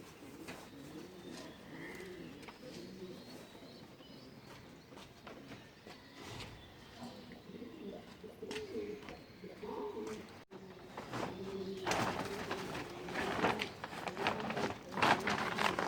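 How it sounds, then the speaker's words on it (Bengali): Domestic pigeons coo in steady rolling calls from a just-opened coop on a foggy morning, with several birds overlapping, while rustling and fluttering grow louder toward the end. "এই যে আমার কবুতরগুলো"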